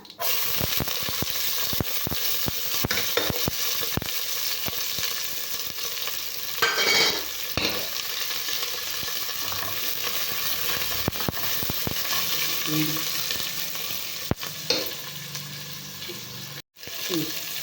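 Onions go into hot oil with reddened urad dal for brinjal rice and fry with a steady, bright sizzle. Scraping stirs and occasional clatters of a spoon interrupt it over about eighteen seconds.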